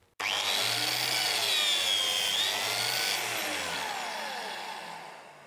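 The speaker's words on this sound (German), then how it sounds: "Ich fräse jetzt noch den Rest" A handheld wood router mills the rest of a small softwood table top, one sustained high whine starting abruptly and running steadily near and loud for about five seconds while the cut proceeds, tapering slightly at the end.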